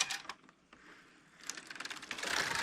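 A Passap E6000 knitting machine has its motor taken off, giving a quick run of dry mechanical clicks and ratcheting rattles, sparse at first and then a denser, louder clatter near the end. No voices.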